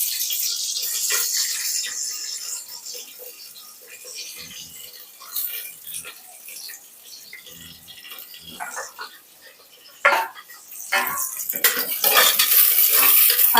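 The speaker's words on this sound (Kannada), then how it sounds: "ಹಾಕ್ಕೊಂಡು ಫ್ರೈ ಮಾಡ್ಕೋಬೇಕು." Onions and mustard seeds stirred and frying in a pan for a South Indian chicken sambar, with scraping utensil strokes and a soft sizzle, clattering louder near the end, no talk.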